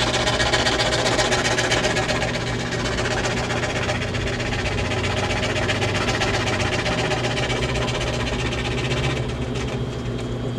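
A saw blade cuts a shellac 78 rpm record as if it were wood, following corners and edges, giving a loud, steady, continuous buzzing whine that holds for the whole stretch with no talk.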